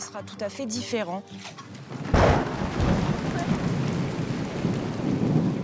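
Heavy rain pours down with rumbling thunder during an early-arriving rainy season in Ethiopia, a dense, steady roar that starts abruptly after a couple of seconds of brief tonal voice-like sounds.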